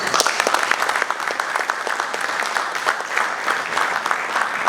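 Audience applause after a speech at a bank unveiling event, dense continuous clapping from a sizeable crowd, loud and even from start to finish.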